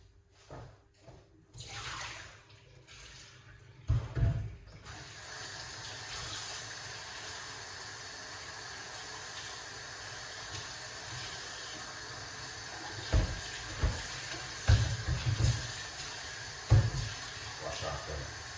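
Running tap water washing items in a kitchen sink, a steady gushing stream with intermittent splashes and clatters, fairly quiet, with brief speech.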